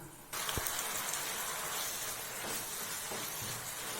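Three-quarters of a cup of water poured into a frying sauce for bread chilli, bursting into a loud, sudden hiss that then holds as a steady close sizzle with a few faint knocks, no voices.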